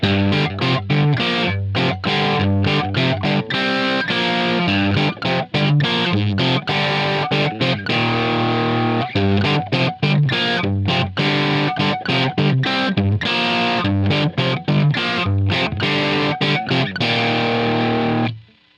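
A heavily distorted electric guitar riff played on a split coil through a Line 6 Helix amp modeler, loud and chunky with rhythmic palm-muted stops and a processed tone, ending abruptly.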